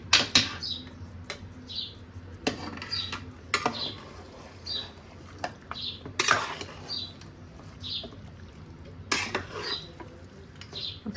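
A spoon scrapes and stirs a spicy mutton curry in a home kitchen pan, with a series of sharp metallic strokes against the pan over a low steady background, fairly close and with no talking.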